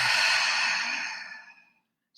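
One long, slow exhale during meditation, a soft airy breath that fades out gradually, followed by the start of a fresh intake.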